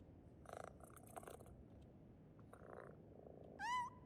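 A petted cat in PowerWash Simulator purrs quietly throughout, with short bursts of sound and a clear rising meow near the end, fairly close.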